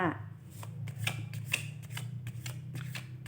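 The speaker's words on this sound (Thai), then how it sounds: "เรามาให้ไพ่อีกสำรับหนึ่งนะคะ" A deck of tarot cards being shuffled close by, with a series of soft riffling and slapping bursts at uneven intervals over a low steady hum in the background.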